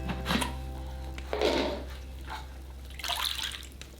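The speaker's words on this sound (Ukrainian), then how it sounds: "Далі витягуємо бобра з води." Splashing and trickling water comes in several bursts as beaver meat is lifted out of water, with dripping and sloshing between them, fairly close.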